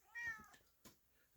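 A cat meows in a home garage where a replacement piston is being installed, giving one close, clear meow followed by a shorter, softer one and a faint trailing sound, with no talk.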